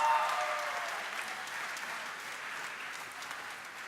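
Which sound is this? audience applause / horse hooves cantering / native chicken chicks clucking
audience applause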